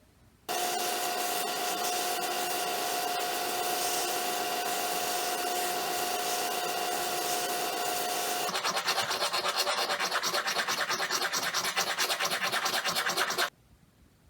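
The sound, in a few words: sanding down sharp metal claw blade edges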